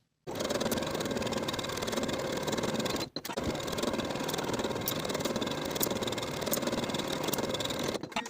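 A sewing machine runs steadily, stitching a narrow zigzag on a sweatshirt seam, with a brief pause near three seconds before the even, close mechanical whir resumes to the end.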